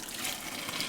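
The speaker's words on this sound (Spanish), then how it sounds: "Como aquí ya tiene mucha agua los tomates, entonces le voy a tener que tirar" Excess cooking water being poured off boiled green tomatoes, a steady close splashing gush of liquid lasting about a second, heard alone.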